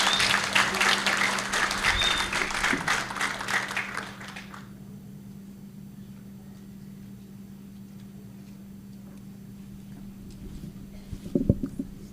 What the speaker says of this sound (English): one more time, a round of applause for Dr. Mugambi and Her Excellency, Monica Juma